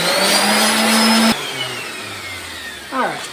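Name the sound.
power sander sanding camp trailer parts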